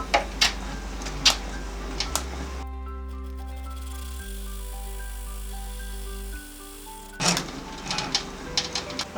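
An embroidery machine runs a tack-down stitch on tearaway stabilizer in the hoop, giving a steady whining, stepping mechanical hum for several seconds between softer ticks and handling clicks before and after, close by.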